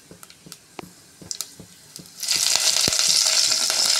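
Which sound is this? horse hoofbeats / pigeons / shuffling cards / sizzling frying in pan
sizzling frying in pan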